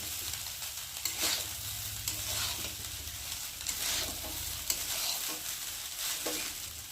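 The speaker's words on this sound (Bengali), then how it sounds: "অল্প অল্প দিচ্ছি আর অল্প অল্প নেড়ে নেড়ে নিচ্ছি" Fried rice being stirred in a pan, a continuous sizzle with repeated scraping strokes of a spatula at an even rhythm, close and moderately loud, with no voices.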